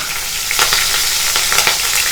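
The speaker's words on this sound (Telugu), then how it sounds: "ఇది బాగా ఫ్రై చేసుకోవాలి" Ginger, cumin, garlic and chopped green chilli sizzle steadily in hot oil for chicken 65, a continuous crackling fry with occasional sharper spatters and stirring scrapes, close and alone.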